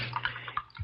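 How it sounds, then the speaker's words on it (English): Champagne poured from an oversized bottle, a brief, faint gurgling trickle of liquid with a few soft splashes, heard under a low background hum. "Champagne it is. And there we are. An oversized bottle, too. All open and ready to pour."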